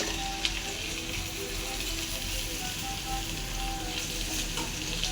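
Potatoes sizzle in a frying pan with a steady, dense crackle at moderate volume that continues unbroken throughout, with no clear talk over it.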